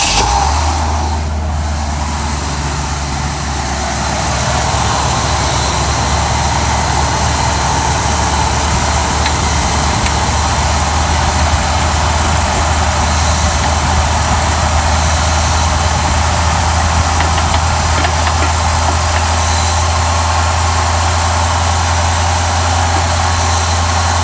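A Cadillac Eldorado Biarritz engine idles steadily after a cold crank, a loud, continuous low rumble that holds unbroken and close throughout.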